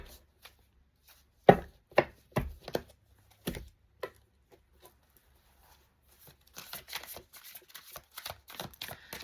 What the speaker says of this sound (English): I just want to pull a couple of these oracle cards